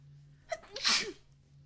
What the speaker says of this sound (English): Don't mind me, I just sneezed.